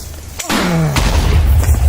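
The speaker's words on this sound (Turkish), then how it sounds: "Şimdi ben silahla sıkacağım patlayacak bu TNT." A loud explosive boom of TNT shot with a gun in Minecraft, with a sharp blast followed by a rumbling low tail and a second burst, no talking.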